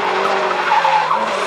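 A Subaru Impreza WRX STi circles around a Suzuki Swift, its tires squealing and skidding in a loud, sustained screech over the engine note, with no talking.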